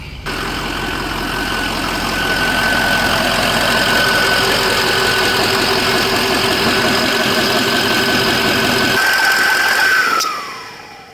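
A Ford F350 with the 6.0 Powerstroke turbo diesel idles loud and steady, a knocking diesel clatter under a thin turbo whine, then shuts off about ten seconds in with the whine spooling down.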